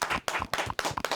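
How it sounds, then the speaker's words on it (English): Five sharp bursts of hand clapping in a steady rhythm, close and fairly quiet, each group of claps separated by a brief gap. "Clap that up, baby"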